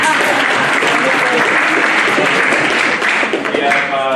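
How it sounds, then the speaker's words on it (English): An audience at a Jersey City ward public safety meeting applauds a councilman with loud, dense, sustained clapping filling the room for several seconds, tapering slightly at the end. "Big clap for the guy."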